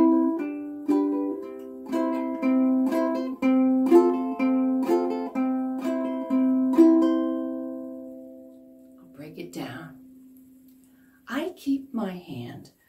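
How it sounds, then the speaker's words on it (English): An advanced strumming pattern rings out on a ukulele, with bright, rhythmic chord strokes for about eight seconds before the strings fade and a person talks softly. "Here's a more advanced strum that once you learn it, you can use it on all kinds of pieces."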